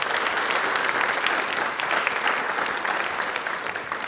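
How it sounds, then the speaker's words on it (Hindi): An Indian studio audience at a televised quiz programme for Ambedkar Jayanti breaks into loud, sustained applause. The dense clapping carries evenly from start to finish. "प्लीज एक बार तालियां जोरदार हो जाए"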